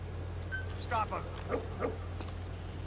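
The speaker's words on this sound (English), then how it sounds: "Woof woof." A dog in the video game Metal Gear Solid V gives a few short, quiet barks and yips, spaced about half a second apart over a low steady background hum.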